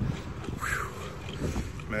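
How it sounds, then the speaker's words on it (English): Wind rushes past a cyclist on a bike ride, a loud steady buffeting roar across the short stretch with no speech over it. "It might be windy, so you might not be able to hear me that well,"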